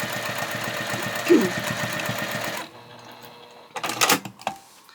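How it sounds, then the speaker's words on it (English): A sewing machine double stitches the stress corner of a fabric drawstring project bag, running in a fast, steady mechanical rhythm for a few seconds before stopping. Brief handling clicks and rustles follow. "We're also going to do this double stitching on this because this corner is going to get a lot of stress"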